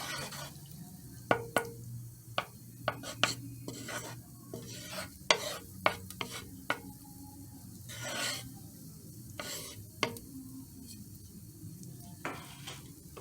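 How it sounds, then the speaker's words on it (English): Butter melting in a pan for Cajun shrimp pasta gives a soft, quiet sizzle, with scattered clicks and knocks of utensils and cookware against the pan, no one talking. "Okay guys, I have my butter in the pan. I'm waiting for it to melt."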